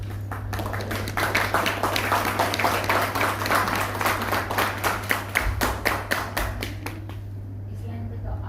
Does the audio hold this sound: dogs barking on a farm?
no